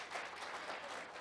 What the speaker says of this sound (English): Clap the hands those who are awake